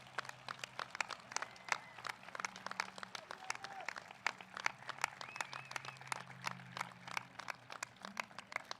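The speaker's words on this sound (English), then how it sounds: "Let's give them a round of applause" A graduation commencement crowd applauds steadily in a large hall, dense sharp claps sustained throughout at moderate distance, with a few faint voices mixed beneath.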